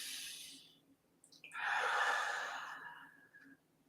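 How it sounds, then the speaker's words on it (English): A slow, deep breath during a guided breathing exercise, a soft airy intake followed by a longer, louder exhale, close and alone with no talking. "Just a big inhale. Can we do that right now? And an exhale."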